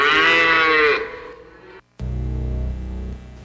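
A cow in a pasture gives one loud, drawn-out moo lasting about a second, followed by a brief gap and then a low droning hum.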